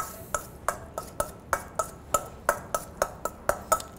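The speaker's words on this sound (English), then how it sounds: "Then give it a quick stir." A spoon stirs a shallot, olive oil and rice wine vinegar dressing in a bowl, making about a dozen crisp, evenly spaced clinks at a quick, steady rhythm, close and clear with no talking.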